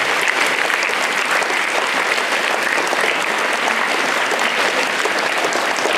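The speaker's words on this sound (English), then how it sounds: "I want a huge round of applause or claps for you." A school audience at an awards ceremony for a children's short film making contest gives a huge round of applause, dense and loud continuous clapping held at an even level throughout, with no voices above it.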